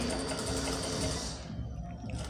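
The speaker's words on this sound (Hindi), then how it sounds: "तो सबसे पहले मैं किनारे की सिलाई यहाँ पर लेने लगा हूँ।" A sewing machine stitching along the edge of white cloth runs with a steady, loud mechanical whir that eases slightly toward the end.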